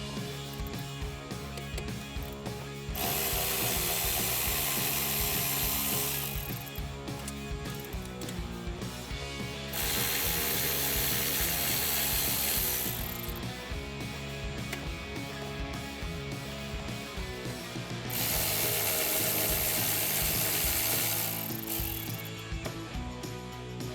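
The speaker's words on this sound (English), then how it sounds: "remove the 4 bolts that are holding our throttle body in place. For that, you'll need an 8mm socket, and I have switched over to my lower profile power ratchet" A low profile power ratchet with an 8mm socket spinning out the four throttle body bolts on a 2015-2017 Mustang EcoBoost, three separate loud whirring bursts of a few seconds each over a steady background hum.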